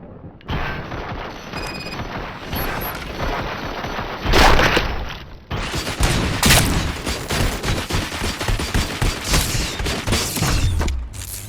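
Sustained gunfire in RoboCop: Rogue City, dense rapid bursts of shots with heavier booms and mechanical clatter, loud and continuous throughout with a brief louder blast midway.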